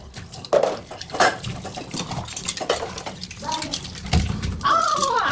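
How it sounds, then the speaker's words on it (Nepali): Dishes are washed by hand under running water, with splashing, clinking pots and intermittent gushes, while voices, including a child's, talk over it nearby. "आफै धुने आफै भाँडा"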